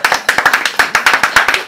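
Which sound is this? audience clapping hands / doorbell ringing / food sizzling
audience clapping hands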